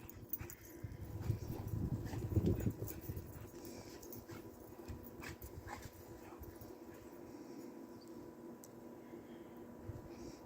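Dogs, including husky mixes, whimper, yip and scuffle while playing in snow after a blizzard in Uxbridge, Ontario, loudest early on and then fading to a low, steady outdoor background.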